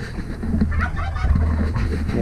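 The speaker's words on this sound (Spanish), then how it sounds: "Ahora van a comer las gallinas." Chickens on a ranch gathered at feeding time, clucking and squawking together in a close, busy flock for a couple of seconds, with no talking.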